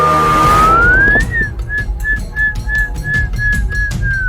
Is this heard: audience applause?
no